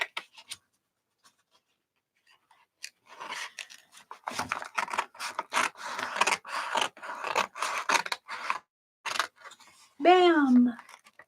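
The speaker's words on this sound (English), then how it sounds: "Let's get out the scissors." Scissors snipping open a mail package by hand: a run of crisp, close cutting and rustling sounds in uneven bursts, after a quiet start, with a brief squeaky voice-like sound near the end.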